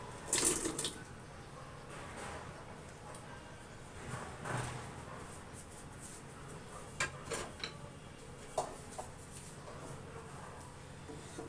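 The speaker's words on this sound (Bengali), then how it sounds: "পরিমাণ মতো পানি দেওয়া হয়েছে তো এখন বিশ মিনিট মাংসটা সিদ্ধ হবে" Water from a tap runs into a pot of dried meat set to boil, a steady faint splashing and trickle with a few louder clanks and knocks of the pot along the way.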